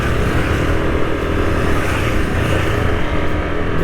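A 2023 Yamaha Aerox 155 scooter's engine drones steadily while riding uphill, loud and close under heavy wind rumble, with no talking.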